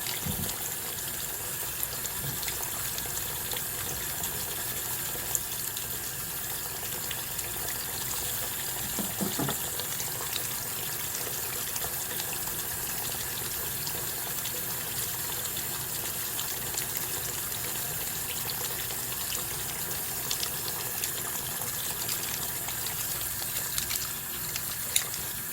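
Tap water runs steadily while makeup brushes are rinsed, a continuous close gush with faint splashes and small knocks throughout, no talking.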